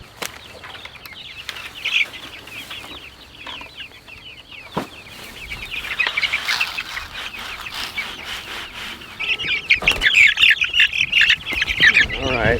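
Meat chickens in a backyard coop squawk and cluck in agitated bursts. The calls are close and get louder and denser toward the end, with some light handling noise.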